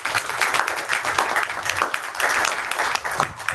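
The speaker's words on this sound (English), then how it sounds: "A huge round of applause." Sustained audience applause fills a conference hall at an international diversity and inclusion event, dense steady clapping from a large crowd lasting the whole stretch without a break.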